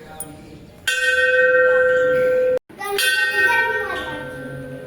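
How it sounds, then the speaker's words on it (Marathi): A metal temple bell rings out loudly inside a Hindu temple, struck twice with a sharp clang each time, the first strike ringing on for nearly two seconds before cutting off and the second fading more gradually. "मंदिरात आल्यानंतर हा घंटानाद ऐकला ना की मनाला खूप प्रसन्न वाटतं"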